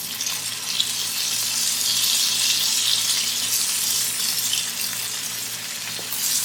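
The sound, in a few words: sautéing spring onions with garlic butter prawns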